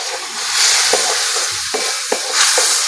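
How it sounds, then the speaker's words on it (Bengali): Spiced masala with Kashmiri chilli powder sizzles steadily in a pan while being stirred, a continuous close frying hiss broken by soft scraping strokes of the spoon. "মশলাটা ভালোভাবে কষিয়ে নিয়েছি, সামান্য জল দিয়ে ভালোভাবে কষিয়ে নেবো, মশলাটা পুড়ে না যায়।"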